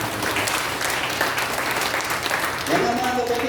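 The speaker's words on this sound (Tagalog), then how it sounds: "Lahat ng masaya pa magsabi ng amen at pumalakpak ng malakas sa atin" A church congregation applauds in a dense, steady wash of clapping that fills the room and carries on throughout, with a voice faintly heard under it.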